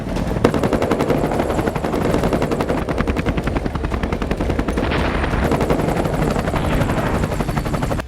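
An Apache helicopter on patrol in Ladakh roars close and steady, its rotor blades chopping in a fast, continuous thudding rhythm that fills the whole stretch without pause.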